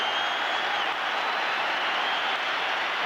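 Steady, dense crowd applause fills a football stadium during a Rangers v Hearts match as Laudrup leaves the pitch, a broad continuous roar of clapping throughout.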